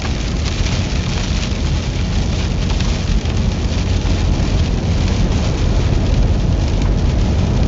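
Hail and heavy rain pound down steadily during a Texas storm, a loud, dense, unbroken roar of impacts with no talking.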